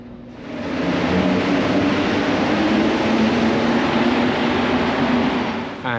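A Montreal metro train carries passengers through a tunnel, giving a steady loud rumbling roar with a hissing wash that holds evenly throughout and tails off slightly at the end.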